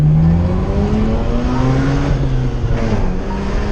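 A loud, close Mazda RX-8 engine revs and roars steadily, its pitch rising and dipping, with no talking.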